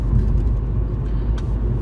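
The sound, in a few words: car driving, engine and road noise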